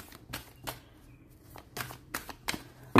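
Tarot cards being shuffled by hand, a series of crisp riffling bursts and soft slaps in an irregular rhythm, close and fairly quiet, with no talking.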